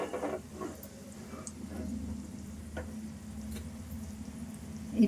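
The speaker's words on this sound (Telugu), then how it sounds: "ఇది కొంచెం వేగాలి." Egg soup ingredients frying in a pan give a soft, steady sizzle, close and fairly quiet, with occasional light ticks and stirring scrapes.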